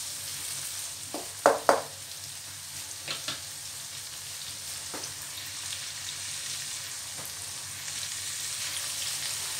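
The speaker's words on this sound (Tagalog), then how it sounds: "antayin lang natin makaramelize yung ating kamatis" Tomatoes frying and caramelizing in a pan give a steady, soft sizzle throughout, with a few sharp clinks and scrapes from stirring near the start and then lighter taps.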